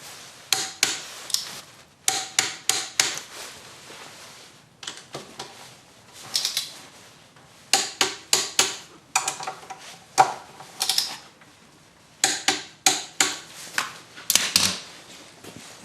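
A torque wrench ratchets in short bursts of rapid metallic clicks while tightening the front caliper bolts on a motorcycle wheel, with brief pauses between each burst. Close and crisp, with no talking.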